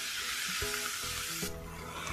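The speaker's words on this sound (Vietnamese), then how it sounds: "Và mình sẽ xào khoảng 5 phút nữa rồi mình tắt bếp." Small shrimp stir-fried with seasoning in a hot pan, a bright continuous sizzle with the scrape and clatter of a utensil stirring through it several times at close range.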